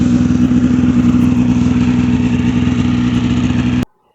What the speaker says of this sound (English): Him and his snowmobile.